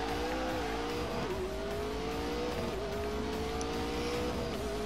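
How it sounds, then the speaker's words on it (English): A car spinning out in The Grand Tour racing video game: a loud, continuous engine drone with wavering pitch, squealing tires and skidding noise throughout, dense and sustained from start to finish. "Oh, Hammond's just spun us around."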